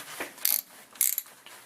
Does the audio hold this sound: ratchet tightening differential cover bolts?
yes